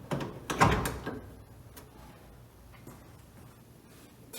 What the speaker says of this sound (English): I think we can get the driver's door open a little bit